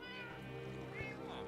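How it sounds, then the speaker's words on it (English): Pet cat in Minecraft giving a short meow near lava, the call close and clear over steady game background noise, with a voice talking alongside. "That's my cat."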